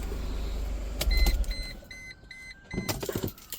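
A Mercedes W202 C230K is switched off partway through an oil change. A low engine rumble stops abruptly, followed by a few short electronic beeps and chimes and some light clicks and knocks.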